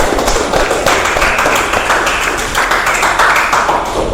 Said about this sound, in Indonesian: Beri aplaus buat Sitara.